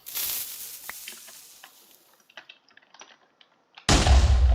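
A wood house TNT in the Minecraft TooMuchTNT mod fizzes and crackles with scattered small pops that die down, then erupts in a sudden loud, deep blast near the end.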